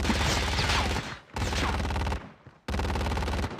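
Rapid video-game gunfire in loud automatic bursts, broken by two short pauses, heard inside a haunted refinery level in a first-person shooter.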